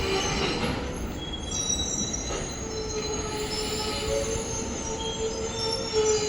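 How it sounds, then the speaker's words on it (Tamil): The QLN Express pulls in behind a WAP-4 electric locomotive, its wheels squealing in thin high tones over a steady rumble of rolling railcars, loud and close throughout with no voices. "இப்போ பார்த்தீங்கன்னா வண்டி வந்துருச்சு"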